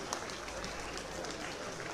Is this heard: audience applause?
yes